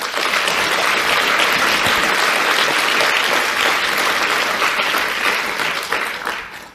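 A conference audience applauds warmly to welcome a speaker, steady loud clapping filling the hall for several seconds before tapering off.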